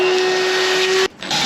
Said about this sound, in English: All right, let me get the vacuum.